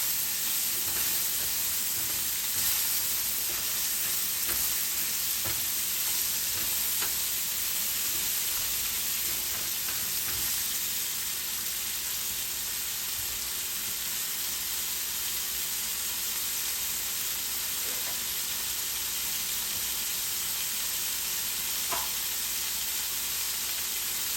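Filet mignon sears in a hot pan, a dense, even sizzle and hiss holding steady and loud throughout, with occasional faint ticks and pops.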